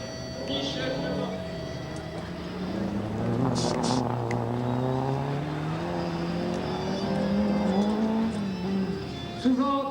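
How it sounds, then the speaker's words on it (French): A racing kart runs on the Planète Karting track at Saint-Martin-en-Lard during a kart race. Its engine whines and shifts pitch up and down as it drives past, loud and steady for the whole stretch, with no talk over it. "Le numéro 69 en piste, Michel Lemont."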